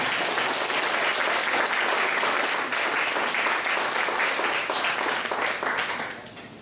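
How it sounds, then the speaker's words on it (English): Audience applause at a Toronto event for the Home for Honduras trip, a sustained roar of many clapping hands that holds steady for several seconds, then tapers off near the end. "Let's give a round of applause to the Sparrow."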